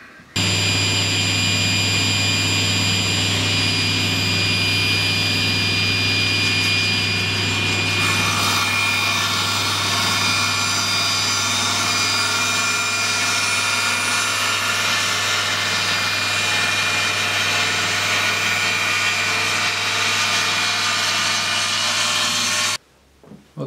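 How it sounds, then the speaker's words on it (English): A table saw cuts wood with a spline jig in a loud, steady whine that lasts over twenty seconds and shifts pitch partway through, then the blade winds down abruptly near the end. "I'm going to make the cut using a spline jig"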